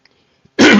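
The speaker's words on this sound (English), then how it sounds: "let me clear my throat" A single short, loud throat clearing by a man at close range, a harsh rasping burst that cuts in sharply after near silence and lasts under a second.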